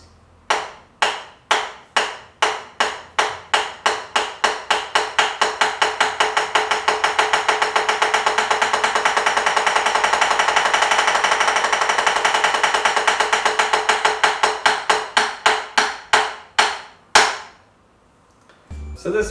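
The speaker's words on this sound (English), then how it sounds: "today we're having a look at the single stroke roll, which sounds like this" Single stroke roll on a drum, alternating hand strokes played alone, starting as spaced hits, speeding into a dense even roll, then slowing back to separate strokes before stopping.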